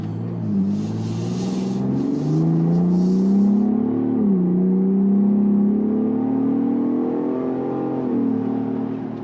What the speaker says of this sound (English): I want to hear how this sounds if I give it some gas in baja